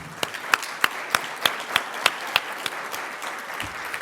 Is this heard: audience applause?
yes